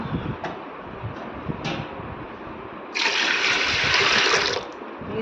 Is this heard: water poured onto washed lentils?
yes